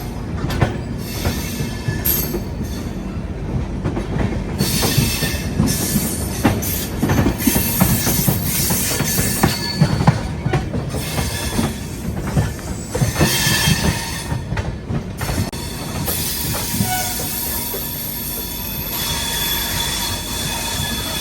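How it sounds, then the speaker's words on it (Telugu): A train rolls past at New Delhi railway station with loud, shrill wheel squeal and rattling clickety-clack of wagons. The sound stays close and continuous throughout, with no voices. "అటు సైడ్ నుంచి ఇంకో ట్రైన్ అయితే వస్తుంది."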